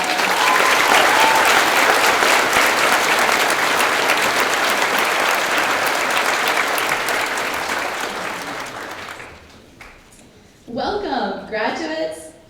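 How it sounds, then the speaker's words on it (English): A high school graduation audience gives the commencement speaker a long, loud round of applause that thins and fades away, followed by a voice beginning to speak near the end. "So let's give him a big round of applause."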